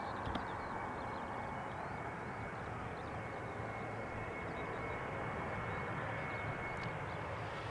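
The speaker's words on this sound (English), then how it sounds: "Embraer from KLM touching down" A KLM Embraer jet lands on runway 18R at Amsterdam Schiphol, heard as a steady, distant engine roar with rushing air that holds at an even level throughout.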